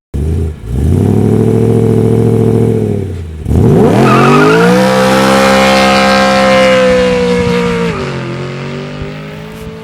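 A BMW M3 exhaust while driving, loud and close, with a sustained engine drone that drops off around a gear change and then climbs again through hard acceleration with a rasping exhaust note.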